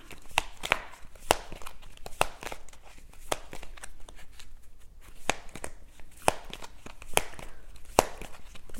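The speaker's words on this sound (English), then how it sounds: "You can hear them clicking, but we don't have any cards jumping" Oracle cards clicking as they are shuffled by hand, sharp scattered snaps and crisp ticks in irregular bursts, close and fairly quiet, with no voices.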